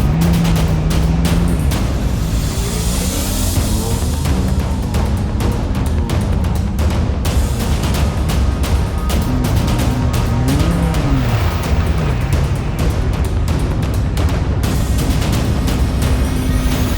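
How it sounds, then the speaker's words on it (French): Race car engines at the Nogaro circuit during a free racing session, loud and continuous, with revs rising and falling as cars enter the track, some passing close and others droning further off. "Les moteurs s'allument un à un. Regardez-les entrer sur la piste."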